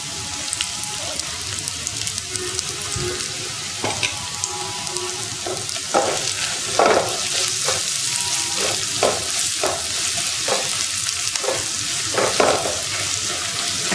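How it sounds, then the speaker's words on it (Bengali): Onions frying in a pan with a continuous close sizzle, punctuated by repeated scraping strokes of a spatula stirring them, no voices. "পেঁয়াজটা মনে হয় একটু ভাজা ভাজা হবে, তাই না?"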